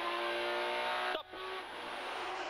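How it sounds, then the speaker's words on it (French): A Porsche rally car rushes past at speed on a rally stage, its high engine whine loud, then cut off abruptly as it passes and fading into a lower, distant drone. "Impressionnant quand même la vitesse de la Porsche"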